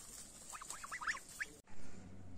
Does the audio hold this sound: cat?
no